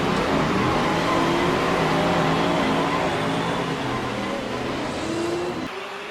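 Racing car engines roar continuously at the start of the 1956 Monaco Grand Prix, a loud, steady mechanical drone with overlapping tones that eases slightly toward the end.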